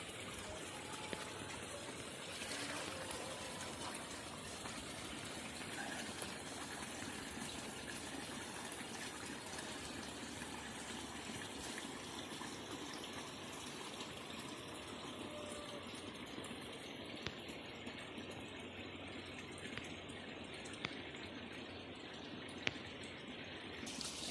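Water flows continuously from a village spring, a steady, gushing rush that stays at a constant, moderate level throughout, with a few faint clicks and no talk.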